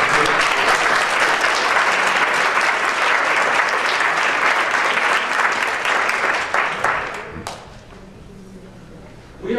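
A conference audience at a Toastmasters fall conference gives the district officers dense, loud applause with some whoops. It rings steadily for about seven seconds, then thins and fades out.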